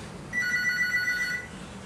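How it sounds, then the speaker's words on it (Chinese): A telephone rings loudly in a living room, a steady electronic trill lasting about a second, close and clear against quiet background, with no talking. "因为我在客厅直播，所以会有电话的声音，它很大声"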